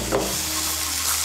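Sizzling of fried potatoes tipped into masala cooking in oil for a vegetarian kakrol kofta curry, a steady broadband hiss with a brief clatter near the start, close and continuous, with no talking.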